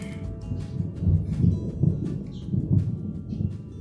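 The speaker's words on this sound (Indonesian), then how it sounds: "Wah, ada guntur menggelegar ya." A low, rolling rumble of thunder swells and fades in waves, distant and heavy, with no voices over it.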